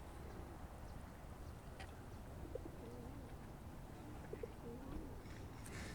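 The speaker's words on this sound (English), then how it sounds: "You hear the pigeon." Soft cooing from a gray and white pigeon at Lindo Lake Park in Lakeside, California repeats a few times over a steady background hum, low and fairly close, with faint chirps from other birds.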